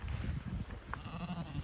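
Katahdin sheep and lambs bleat briefly while being moved between paddocks, a few short calls over low rumbling wind and outdoor noise.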